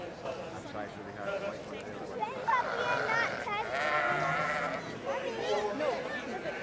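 Sheep bleat repeatedly amid the bustle of the Royal Highland Show, their calls rising over a busy crowd of talking people and general showground noise.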